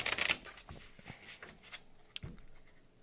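Tarot cards being shuffled in a quick riffling burst at the start, followed by softer scattered card taps and slides, close and fairly quiet.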